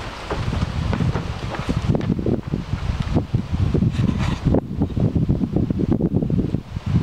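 Wind gusts and buffets around a tarp over a tent outdoors, a steady roaring rush with fluttering flaps and microphone wind noise, close and continuous with no talk.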